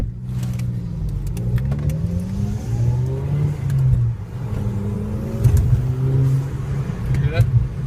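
A car with muffler and resonator deleted from its exhaust rumbles and revs in a ride-along, a close droning engine note rising and falling under ongoing talk.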